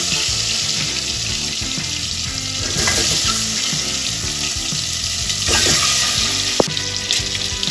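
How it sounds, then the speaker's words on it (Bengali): Eggs coated in Kashmiri chili and turmeric powder fry in hot oil with a loud, steady, close sizzle, broken by occasional stirring clatter and one sharp click. "এটাকে কাশ্মীরি লঙ্কার গুঁড়ো আর হলুদ গুঁড়ো মাখিয়ে রেখেছি এটাই হালকা করে ভেজে নেব"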